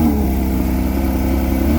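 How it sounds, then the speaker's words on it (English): A 2024 Porsche 911 GT3 RS engine holds a steady, loud, throaty drone through its sporty exhaust, close by and constant in pitch, with no voices over it. "This is a really good sounding exhaust."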